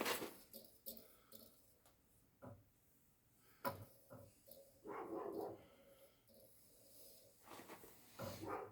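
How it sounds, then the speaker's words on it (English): A neighbor's dog barks in short, scattered bursts, some faint and some fairly sharp, with talking in between and no steady rhythm. "It's the neighbor's dog, by the way."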